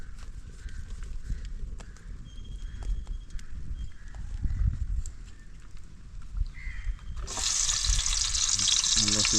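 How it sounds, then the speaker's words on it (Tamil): Tomato, onion, green chili and garlic hitting hot oil, a low bubbling fry that bursts into a loud, bright sizzle near the end, close up with scattered utensil clinks. "ஆயில் கொஞ்சம் ஹீட் ஆனதுக்கப்புறம் வெட்டி வச்ச தக்காளி வெங்காயம் பச்சை மிளகா பூண்டு எல்லாத்தையும் போட்டுடலாம்"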